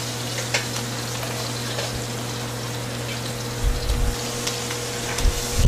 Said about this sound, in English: Okay, so I just want to brown the butter